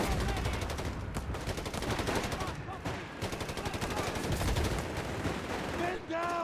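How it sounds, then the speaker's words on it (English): Dense, rapid gunfire and heavy explosive thumps from a Company of Heroes 3 battle, with German Granatenwerfer mortar rounds hitting an anti-tank gun. The firing is loud and nearly unbroken for several seconds, with no talk over it. "Mortar fire there on the anti-tank gun from my Granatenwerfer."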